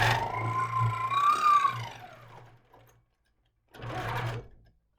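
HQ longarm quilting machine stitching a curved crosshatch along a ruler, with a whirring run that rises and falls in pitch as it moves, then a pause and a second short burst.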